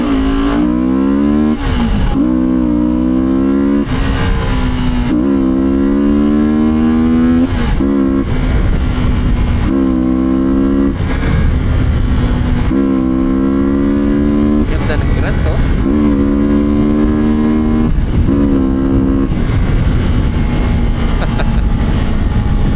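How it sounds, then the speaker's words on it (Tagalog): A Benda Dark Flag 500cc V4 motorcycle revs repeatedly in low gear, loud rising engine pitch climbing and dropping through several gear pulls, with a rider speaking over it. "subukan natin V4 engine ng dark flag, 500cc, 47 horsepower"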